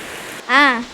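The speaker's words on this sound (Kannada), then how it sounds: "ಮಳೆ ಇಷ್ಟೊಂದು ಬರ್ತೈತೆ 2 ದಿನದಿಂದ" Heavy rain falls as a steady, even hiss throughout, with a person's voice rising briefly over it near the end.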